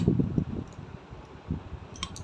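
A sewing machine stitches a half collar band in short bursts of fast, rhythmic mechanical clatter, fairly close and moderately loud, pausing briefly before a few lighter ticks near the end.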